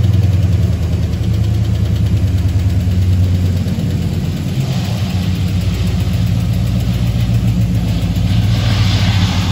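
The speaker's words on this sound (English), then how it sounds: "Vince, fire it up and pull it forward so we can take a look at it" A 1967 Dodge Coronet 440 convertible with a 318 two-barrel V8 idles close by, a loud deep burbling rumble that holds steady with slight shifts in pitch.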